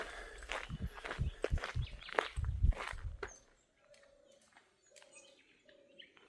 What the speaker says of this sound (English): There's actually been a few bird songs this morning that I've not recognised.